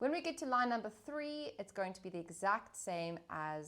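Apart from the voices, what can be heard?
No everyday noise stands out behind the speech.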